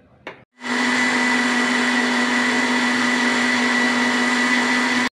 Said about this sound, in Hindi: अब यह है कि इसको पीस लेते हैं ग्राइंडर कर लेते हैं